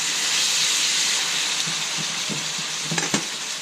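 Steak frying in a hot pan with onions for pan con bistec, a steady loud sizzle and hiss with a few soft stirring clicks and pops toward the end, close up with no talk.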